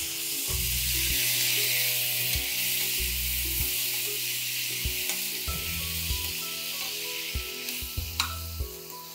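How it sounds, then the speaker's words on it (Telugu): Finely chopped tomatoes with turmeric sizzle and fry steadily in a hot pan, a continuous hiss with occasional stirring scrapes and low knocks, close and fairly loud with no talk. "దీంట్లో మనం సన్నగా తరిగి పెట్టుకున్న టమాటాలు వేసేద్దాం"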